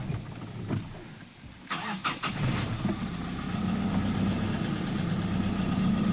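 Mahindra Xylo engine cranks with a few brief catches, then settles into a steady idle hum that holds evenly and close through the rest, no talking heard.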